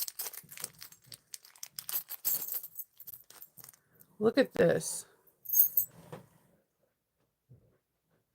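Small metal zipper pulls jangling and clinking, with a couple of louder rattling bursts, close up; a voice speaks briefly early on.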